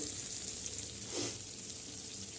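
Unniyappam fry in hot oil with a steady, close, dense crackling sizzle that holds throughout, with no voices.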